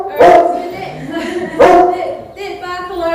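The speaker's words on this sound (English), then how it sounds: "He's also got that big, beautiful English foxhound bark." An English foxhound working sheep on a New Zealand farm gives two big, loud, resonant barks about a second apart, followed by a softer trailing whine.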